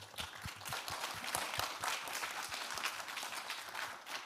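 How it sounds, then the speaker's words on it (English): An audience at the 2025 Heart Valve Disease Forum applauds the forum's four founders, with a crowd clapping warmly and continuously, some sharp individual claps standing out near the front. "First, a round of applause for these 4 gentlemen."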